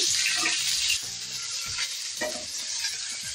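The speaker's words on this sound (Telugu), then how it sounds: "పచ్చిమిర్చి బాగా ఫ్రై చేసుకోవాలి" Green chillies frying in a pan, a steady bright sizzle with repeated scraping stirs of a spatula, close and alone.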